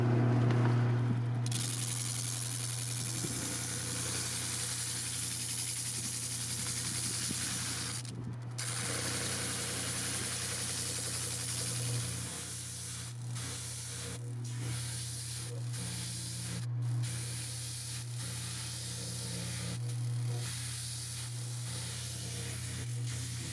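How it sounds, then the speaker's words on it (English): A drum sander runs steadily outdoors, flush-sanding a guitar rosette, giving a constant motor hum with a broad hissing rasp. Brief gaps and shifts in the hiss mark the piece being lifted and pressed back against the drum. "I'm going to use my drum sander again"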